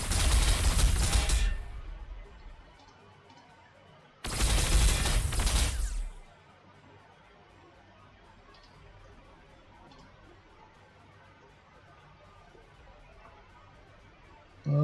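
Gunfire in Warhammer 40,000: Sanctus Reach, two loud, dense bursts of rapid shots, each lasting a second or two and separated by a short pause, followed by a long stretch of quiet background with faint ticking.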